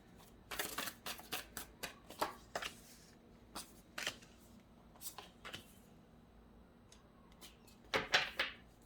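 A tarot card deck shuffled by hand up close, with repeated quick riffling bursts in irregular clusters, separated by short quiet gaps and ending in a louder flurry.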